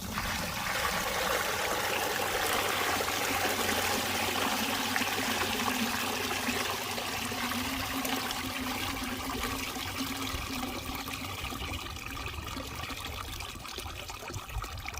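Muddy clay water being poured off settled sand and rock, a steady, close trickling and splashing stream that continues without pause and fades slightly toward the end.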